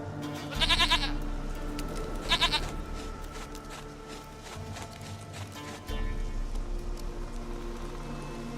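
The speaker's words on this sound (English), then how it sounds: "Goat of mine, dearest, sweetest goat." A goat in The Witcher 3 video game bleats twice in quick wavering cries, close and fairly loud, over a low ambient drone and soft hoof clops.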